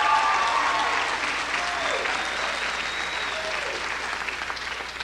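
Audience applause at the Lemon Bay High School Class of 1999 commencement, a dense sustained wash of many hands clapping that fills the hall and fades slightly over five seconds, with faint voices and whistles inside the crowd.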